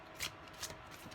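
A quick riffle of oracle cards being shuffled, two short bursts close up and quiet.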